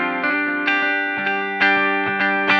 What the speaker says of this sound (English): you do get a different character when you're turning that knob and you have the feedback maxed out